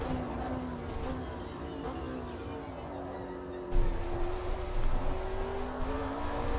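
A race car engine drones steadily through a lap in the sim racing game Automobilista 2, with a sustained tonal whine that shifts pitch gradually and then grows louder and rougher midway.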